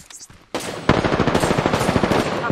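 Rapid automatic gunfire in the video game Apex Legends erupts after a brief quiet moment, a loud sustained burst of shots with sharp individual cracks rattling on for about two seconds.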